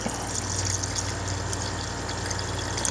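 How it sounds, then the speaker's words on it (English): Hydrochloric acid is poured over potassium nitrate in a beaker, making a steady, close rushing and hissing liquid sound that runs unbroken for about three seconds with no voices. "I'm just going to pour some uric or HCl over this stuff, enough to cover it"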